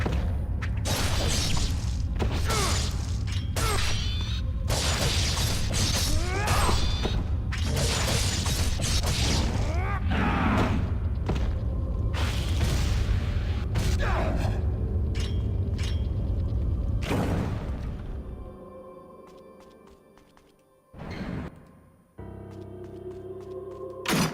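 An elevator ride in the Ninja Gaiden Black video game gives a steady loud mechanical rumble with clanking and ratcheting that stops near the end, followed by a few isolated knocks and quieter tones.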